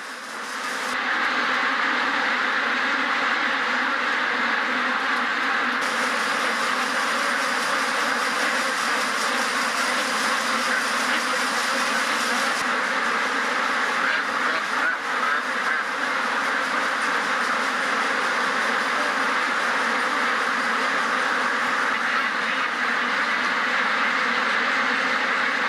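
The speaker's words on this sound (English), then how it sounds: "In today's intensive farms, ducks never even see water, except to drink." Dense, continuous quacking of a large flock of ducks crowded in an intensive farm shed, loud and unbroken throughout with a steady mechanical hum beneath.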